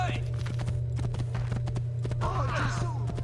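A horse's hooves clop in a rapid, steady rhythm in the video game Assassin's Creed 2, under background music with a brief burst of crowd chatter near the end.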